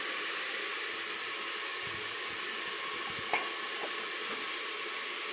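Four or five curry leaves fry in hot oil for a tadka, giving a soft, steady sizzle and hiss close by, with a few faint clicks and light taps of stirring and no talking.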